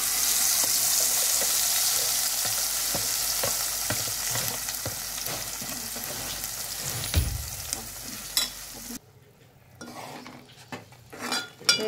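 Ground chilli gravy paste sizzling in a pan, a steady hiss broken by repeated scraping and clinks of a spoon stirring, loud and close, then cutting to quieter clatter near the end.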